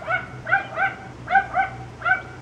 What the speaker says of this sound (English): Oh, that dog has been going for like an hour or so,